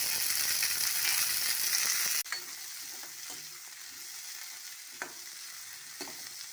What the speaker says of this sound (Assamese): এতিয়া এইখিনি মই অকণমান ৰঙচুৱা হোৱালৈকে ভাজি ল'ম।